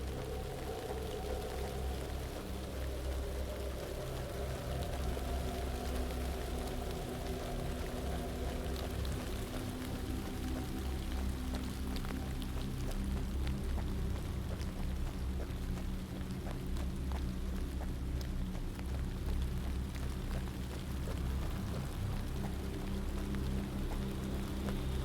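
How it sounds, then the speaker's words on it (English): Steady rain pours down on a forest in a video game without a break, a dense, even hiss of drops hitting surfaces, with no voices. "I'm feeling the damp chill from walking in this rain in the forest."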